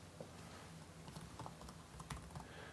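A computer keyboard being typed on, a quick burst of light, close key clicks in an uneven patter over about three seconds, quiet and with no talk.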